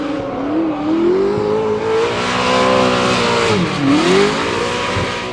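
A V8-powered Nissan R34 Skyline drift car, the AutoSure Insurance entry, revs hard and continuously at Hampton Downs in the Waikato. The engine note is loud and rising, dips briefly, then climbs again, with faint tyre squeal.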